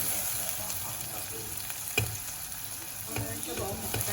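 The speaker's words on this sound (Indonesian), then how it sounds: "langsung aja kita masukin ebinya. Ini kita tumis juga sampai tercium wangi ebinya ya" Shallots and dried shrimp stir-fried in a hot pan for pad thai, a steady close sizzle and crackle of oil with occasional scrapes of a spatula stirring.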